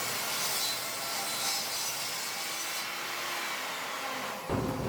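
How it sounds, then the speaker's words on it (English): A table saw ripping the edges off rough sawn lumber, a steady loud continuous cutting roar that holds for several seconds before the blade load drops off and the tone shifts near the end. "the rough sawn just gets its edges ripped off to clean it up"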